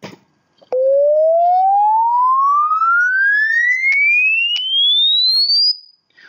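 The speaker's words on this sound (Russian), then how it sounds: "давайте попробуем сгенерировать sweep-сигнал длительностью 5 секунд, который начинается с частоты 500 Гц и заканчивается, ну, например, 5 кГц" A pure sine sweep from an LF generator rising smoothly from 500 Hz to 5 kHz over about five seconds, loud and alone, with faint clicks at the start and end.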